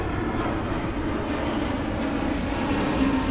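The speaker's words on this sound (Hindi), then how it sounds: "ओके, ये प्लेन को जाने दो." A steady, broad roar of an airplane passing overhead outdoors in Mumbai, loud and sustained throughout with no speech over it.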